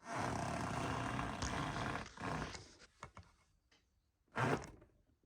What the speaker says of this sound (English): you can hear it catching the bump stop